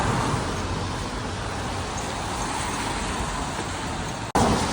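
Steady roar of city street traffic, a continuous broadband wash of passing vehicles that stays fairly loud throughout, with one abrupt momentary dropout near the end and no talking.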